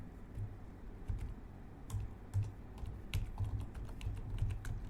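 Someone types on an HP laptop keyboard, making a close, irregular run of light key clicks and taps over a soft background hush.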